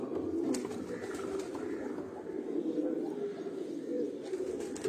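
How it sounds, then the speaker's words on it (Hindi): Pigeons on a rooftop in Piplan coo softly and steadily, a low, continuous murmur that stays faint and fairly distant. "दो कबूतर होर उत्ते आए ने जी।"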